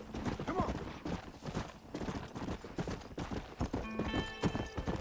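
Horse hooves clip-clop in a steady rhythm in the Western video game Red Dead Redemption, with a whinny and game sounds layered over the gallop and a voice talking faintly alongside.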